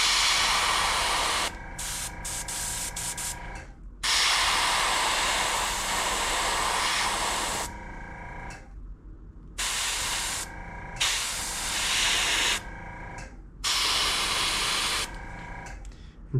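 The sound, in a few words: spray painting solid black back on a crankbait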